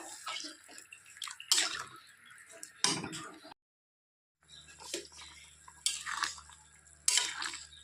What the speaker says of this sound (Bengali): ঝোলটা উতলে গেছে